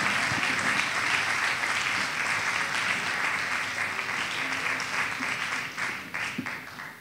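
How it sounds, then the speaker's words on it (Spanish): An audience at a school award ceremony gives a sustained round of applause for Lucho, full crowd clapping that stays strong for several seconds and then gradually thins out, with faint murmurs underneath. "un aplauso para Lucho"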